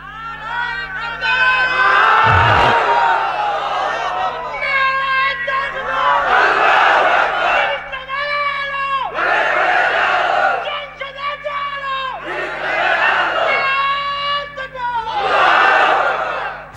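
A large crowd chants the Islamic call Nara-e-Takbir at an outdoor Bangladeshi religious sermon gathering, answering in six loud, rhythmic, roaring bursts separated by short pauses, with a steady electrical hum underneath.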